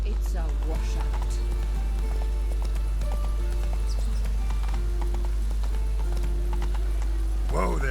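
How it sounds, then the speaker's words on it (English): Horse hooves clip-clopping at a steady trot in The Witcher 3 video game, a rhythmic game sound over a constant low hum, with a voice talking briefly near the start and again at the end. "Whoa there, Roach."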